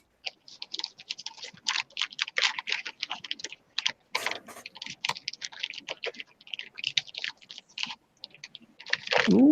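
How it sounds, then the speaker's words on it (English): Rapid typing on a computer keyboard, heard live on a stream: a dense, continuous clatter of sharp key clicks in quick irregular bursts, close and fairly loud, with short pauses and a final thump. "That sounds like race typing."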